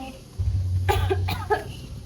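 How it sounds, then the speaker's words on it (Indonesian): A person coughs several times in a quick burst, close and fairly loud, over a low steady hum. "Kenapa tuh batuk-batuk tuh?"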